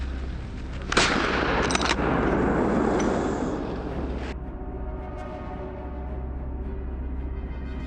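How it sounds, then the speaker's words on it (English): A rifle shot during a wild boar hunt in a forest: one sharp, loud crack followed by a few seconds of dense rolling roar, then a quiet outdoor background for the rest. "A dry, sharp gunshot breaks the stillness."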